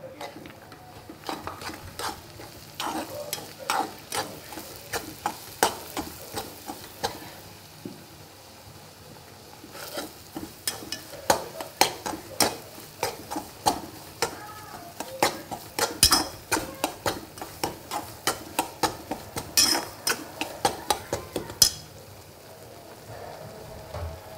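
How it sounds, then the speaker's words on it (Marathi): Semolina for banana shira roasting in a pan, stirred with a spoon in a steady run of scraping, clinking strokes that grow busier toward the end, close and fairly loud with no talk. "आता हा शिरा लाल होईपर्यंत भाजून घ्यायचा।"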